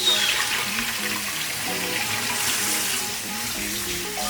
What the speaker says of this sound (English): just giving it a little rinse